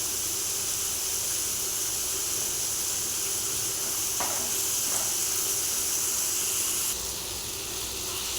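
Tomatoes sautéing with rock salt in a pan for a kovakkai (scarlet gourd) fry, a steady soft hiss and sizzle running throughout with a couple of faint stirring scrapes, close and without talk.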